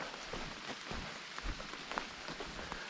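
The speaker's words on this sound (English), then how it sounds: "Hope it doesn't rain harder." Light rain falls on the Appalachian Trail, a soft steady patter with scattered individual drops ticking nearby, fairly quiet and continuous, no voices.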